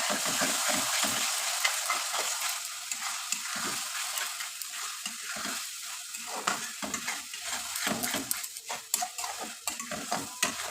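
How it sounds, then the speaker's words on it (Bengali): Carrot-papaya halwa with ghee is stirred steadily in a pan, making a continuous rhythmic scraping and soft sizzling, close up, with no talking. "ঘিটা দিয়ে আমি আবার ভালো করে মিশিয়ে নিচ্ছি"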